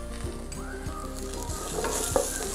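Green chillies and beef masala sautéing in a pan, a loud, dense sizzle with repeated soft stirring strokes and a sharper scrape toward the end, heard up close without speech.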